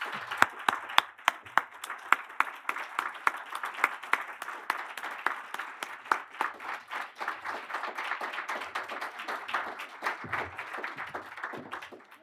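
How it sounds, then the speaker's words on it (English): Audience applause at the 2024 Elections Summit, a sustained round of clapping from a seated crowd in a hall, dense and even, tapering slightly toward the end. "All right, let's give a round of applause to"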